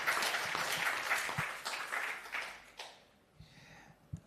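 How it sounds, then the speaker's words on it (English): A short burst of applause from a small audience at an online academic colloquium, steady clapping that thins out and fades after a few seconds. "So a big round of applause for Luís."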